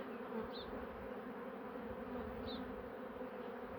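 Honeybees at an apiary hive frame in Ardahan hum in a low, steady drone at close range, faint overall, with no one speaking.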